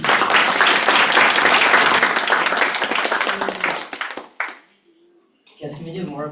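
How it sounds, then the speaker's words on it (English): Loud, dense applause from a conference audience at a security talk, sustained for about four seconds before fading, then a short pause and a burst of crowd noise and voices. "can we do more of a applause for that"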